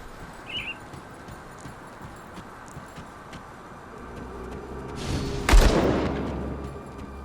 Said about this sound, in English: Who's bloody shooting at me?